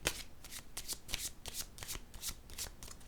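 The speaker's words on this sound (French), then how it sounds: "Je vais piger une carte." A deck of cards is shuffled close up in quick, crisp riffling bursts, a steady run of papery flutters with no talk over it.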